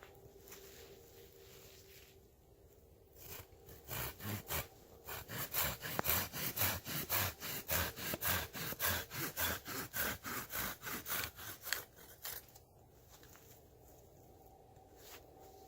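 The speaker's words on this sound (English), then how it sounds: "So we'll carve that down for a spindle." Rhythmic wood carving as a knife shaves down a relatively straight stick into a bow drill spindle, steady rasping strokes in a fast regular run for several seconds, close and fairly loud, with quieter scraping before and after.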